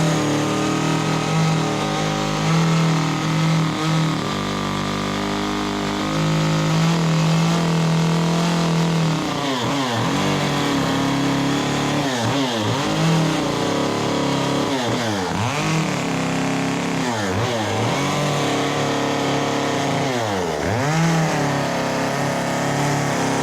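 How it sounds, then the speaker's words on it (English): A chainsaw smooths and carves the top of a pumpkin, its engine droning loudly and continuously up close, with repeated rising and falling pitch sweeps as the blade bites and revs, no talk. "I just kind of take the saw like this, and we're just going to walk around and just kind of clean this top up so it's nice and smooth"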